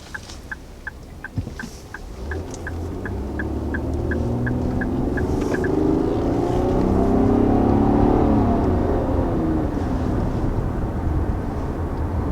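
A 2020 Infiniti QX60 SUV with a CVT, in sport mode, accelerates with a rising, steady engine drone that grows louder and holds. A series of short, evenly spaced chimes sounds at the start.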